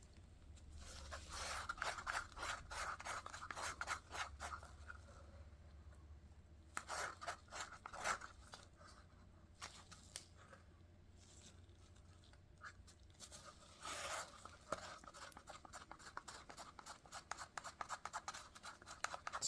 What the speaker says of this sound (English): Scraping every bit of my mica powder I can get.